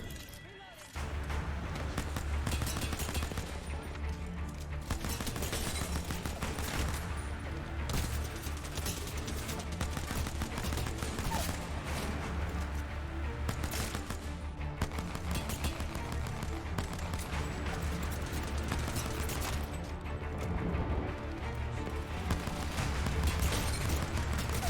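P2020 pistol gunfire in an Apex Legends match, with repeated sharp shots and other gunfire crackling throughout a busy fight, mixed with game sounds and some talk.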